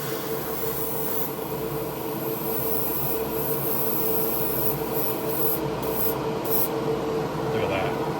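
A spray gun lays down SMS 2k clear coat on Ford 1929 Model A parts, giving a continuous, even hiss of atomized spray with a faint steady tone and no pauses.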